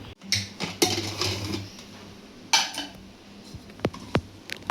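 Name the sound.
opening a pressure cooker container of steamed dhokla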